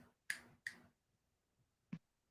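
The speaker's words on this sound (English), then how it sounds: "Snap your fingers." Three sharp finger snaps ring out in a quiet room, two in quick succession and a softer third after a pause.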